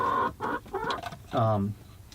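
Backyard chickens cluck and murmur close by inside a coop, a string of short throaty calls with one longer drawn-out cluck, heard on their own without talking.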